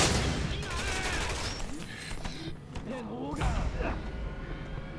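Rapid bursts of gunfire ring out in the Resident Evil 6 video game, mixed with thuds, other game effects and someone talking over the action.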